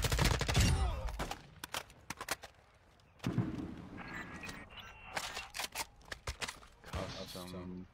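Scattered bursts of gunfire from the video game Apex Legends crack out in short sharp clusters amid in-game voice callouts, some loud and near, others thinner and farther off.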